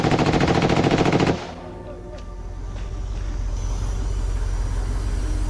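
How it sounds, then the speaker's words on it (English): Automatic gunfire during an ambush on Russian soldiers recorded on a Ukrainian helmet camera: a dense, loud, rapid burst of shots, then a roaring, rumbling aftermath that swells again, with a voice partly audible underneath. "Gunfire erupted like thunder."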